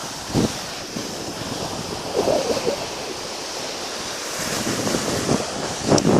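Sea waves break and wash up on the beach at Naha, a steady broadband surf roar with periodic swells, overlaid by buffeting wind noise against the microphone; no voices.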